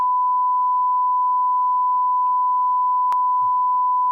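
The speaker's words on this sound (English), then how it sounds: "for the next few seconds, you're all just going to hear beeps" A steady censor bleep holds one pure continuous tone from start to finish, covering speech, with only a brief click near the end.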